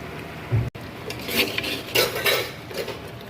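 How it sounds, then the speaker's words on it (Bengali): Mutton is sautéed in a pot with a spoon scraping and clinking against the metal. A sharp knock comes early, then bursts of stirring and scraping follow over a low sizzle. "মাংস কষা চলছে"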